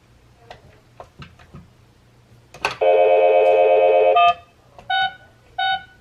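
A telephone number is keyed in: a few soft button clicks, then a long steady dial tone, then two short touch-tone beeps, close and clear with no talking.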